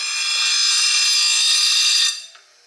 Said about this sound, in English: Let's get back to grinding this